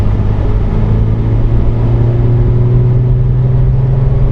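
A Tata Hexa SUV in sports mode pulling hard with a steady, loud engine drone and a low humming whir. The engine note holds close and constant with no talking over it.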